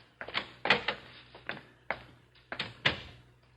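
A door handled as a radio drama sound effect: scattered clicks, latch rattles and thumps as it opens and closes, fairly quiet and close, with no talk over it.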